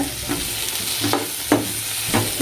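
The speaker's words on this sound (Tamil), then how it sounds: "சேர்த்துட்டு இது நல்லா ஒரு நிமிஷம் சாட்டே பண்ணிக்கோங்க" Masala with salt sautés in a pan, a steady sizzle broken by four or five sharp scraping stirs of a spoon at a loose, irregular pace, close and clear with no talking.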